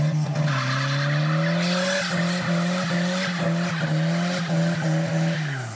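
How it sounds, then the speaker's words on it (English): Tires squeal in a long, loud burnout over a roaring, revving turbocharged engine at about 16 PSI boost, holding steady for several seconds before cutting off abruptly. "finishing it off with a mad burnout"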